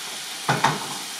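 Tandoori chicken tikka sizzling on a very hot tawa over high gas, stirred once: two quick scraping strokes over a constant hiss.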